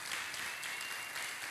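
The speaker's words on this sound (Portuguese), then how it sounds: "Você pode aplaudir a palavra do Senhor?" A church congregation applauds the word of the Lord, a dense, steady burst of many hands clapping together, bright and continuous with no voices over it.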